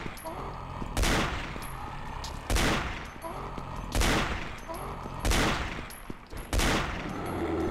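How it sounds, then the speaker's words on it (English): Bursts of rapid gunfire in a video game, with several loud broadband volleys spaced about a second or more apart over a steady background. "Quick shooting."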